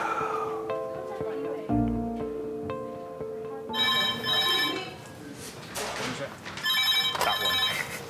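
A telephone rings repeatedly in a hospital accident and emergency department, electronic trilling bursts over a busy background of voices and movement.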